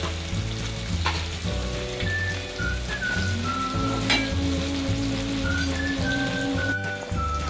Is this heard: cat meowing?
no